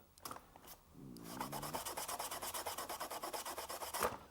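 Paint being rubbed off a toy RC truck body to weather it, with a few faint taps and then a quick, rhythmic scrubbing that runs steadily for nearly three seconds, close and fairly quiet.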